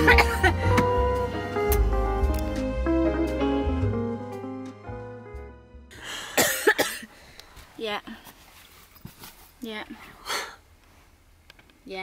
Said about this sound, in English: just the cough still.